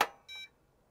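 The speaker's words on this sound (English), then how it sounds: "We got a beep." A 286 computer with a DTK PTM-1000 motherboard, damaged by a leaking Varta battery, gives one short, clear electronic POST beep of about a fifth of a second after a brief click, then falls silent.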